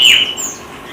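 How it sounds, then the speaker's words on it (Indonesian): Chirps from a female brown-throated sunbird held in a cage, a bright high call strongest at the start and fading into soft, continuous chirping for about a second. "ini burung kolibri kelapa. Ini untuk yang betinanya ya."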